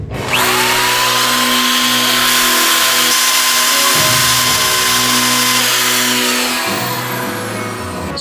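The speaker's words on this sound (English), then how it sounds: "I've got myself a wire brush on the end of my drill" A power drill with a wire brush grinds steadily against steel, loud and close, its motor pitch dipping and recovering as pressure changes.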